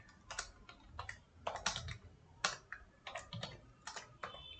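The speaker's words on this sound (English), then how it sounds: "I'm typing from keyboard" Close keystrokes on a computer keyboard while entering numbers into a desktop calculator app, irregular clusters of crisp clicks with short pauses between bursts, no speech.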